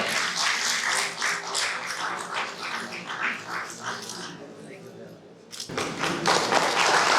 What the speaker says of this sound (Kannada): ಗೌರವದ ಸಮಾನ ಜೋರಾಗಿ ಚಪ್ಪಾಳೆ